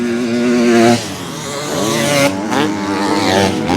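Motocross bikes race at a round of the French championship in Gaillac-Toulza, their engines screaming close by with rising and falling revs as riders accelerate and shift through the track.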